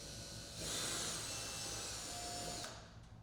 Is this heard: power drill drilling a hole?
yes